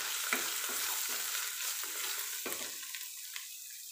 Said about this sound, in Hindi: अब इसे हिलाएं।